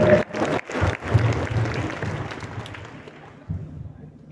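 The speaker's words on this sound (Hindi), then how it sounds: "एक बार आप पुनः चंदन के लिए तालियां बजाएं" A school quiz audience at an inter college claps for a contestant, a brief burst of applause with a few sharp claps that fades away, then one last short clap near the end.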